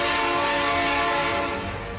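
A Karachi Circular Railway train passing loudly and close, its horn sounding a sustained tone that fades slightly toward the end.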